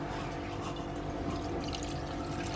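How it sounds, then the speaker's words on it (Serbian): Lukewarm whey is poured into bottles, a steady trickling and splashing of liquid that runs close and unbroken, with no talk over it. "ništa ne smeta da sipam u flaše i ide u frižder"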